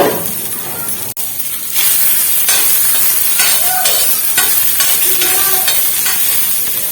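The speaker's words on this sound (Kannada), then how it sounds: "ಈಗ ಎಣ್ಣೆ ಹಚ್ಚೇನೆ ಮತ್ತೊಮ್ಮೆ ಈ ಒಂದು ಉಳ್ಳಾಗಡ್ಡೆ ಹಚ್ಚಿ ಮತ್ತೊಮ್ಮೆ ಫ್ರೈ ಮಾಡ್ಕೊಂಡು" Onion is rubbed over a freshly oiled new iron dosa tawa, giving a loud, steady sizzle with a brief drop near the start and light scraping strokes throughout.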